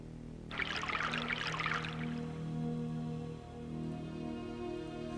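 Water poured to fill a container in the DreamWeb video game, a short bright splashing pour that fades into a low steady hum.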